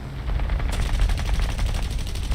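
Rapid aircraft cannon fire from a German Ta 152H fighter in a combat flight game, a dense burst of repeated shots against a low engine rumble, loud and continuous throughout.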